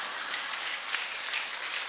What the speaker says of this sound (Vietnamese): Nói nghe được mà vỗ tay hoài à.